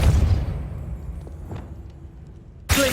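A Repulsor spell in Hogwarts Legacy lands as a fading blast that decays into low rumble, with a few faint clicks, then a second sharp burst cuts in at the end.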